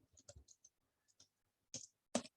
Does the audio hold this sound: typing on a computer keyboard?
yes